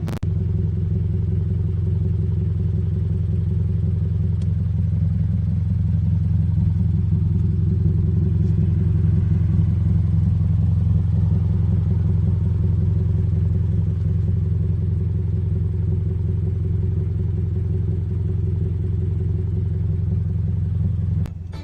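A Scion FR-S fitted with a Tsudo catback exhaust idles steadily, recorded close from outside the car, producing a constant low rumble with no revs or talk.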